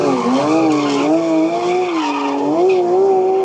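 A Porsche GT3 RS sports car screeches with sustained tyre squeal over its engine, the pitch wavering up and down continuously, loud and close with no talking.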